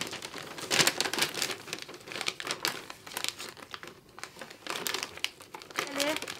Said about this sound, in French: on va ouvrir les scotch sur les côtés